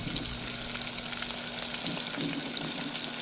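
Battered alligator gar pieces frying in hot oil in a good-sized pan, a steady even sizzle held close throughout with faint crackles, no voices.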